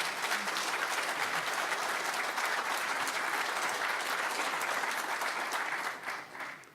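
Sustained applause from a large crowd at a social pastoral conference, steady and dense, fading out near the end.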